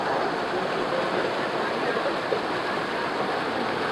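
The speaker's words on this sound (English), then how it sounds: "this is the river I used to come as a child with my brothers" Flowing river water makes a steady, continuous rushing wash that stays even and unbroken throughout, with no voices over it.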